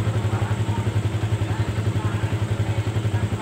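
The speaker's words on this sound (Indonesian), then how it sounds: "Kemudian saya nyalakan mesinnya." A Yamaha Vixion motorcycle with a charging fault runs at a steady idle, its low engine pulse throbbing evenly and continuously at close range with no revving.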